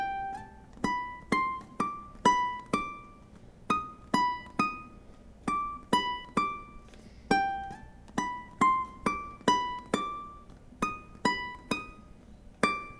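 Plucked ukulele notes play theme 4 of In the Hall of the Mountain King on the first string, a clear solo melody of evenly spaced, quickly decaying notes in a steady rhythm.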